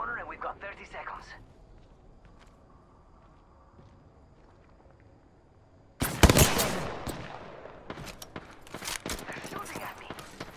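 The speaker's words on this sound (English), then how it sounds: "They're shooting at me." Gunfire in Apex Legends breaks out as loud, rapid volleys of shots after a quiet stretch of footsteps and faint ambience, continuing in sharp, irregular bursts to the end.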